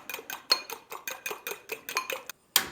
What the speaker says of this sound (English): I don't use a whisk, I use a fork.